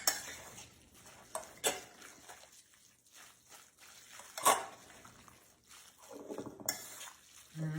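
Hot crock pot chicken being shredded in a bowl, quiet scraping and soft clinks of utensils against the bowl in irregular bursts, close and faint with no talking.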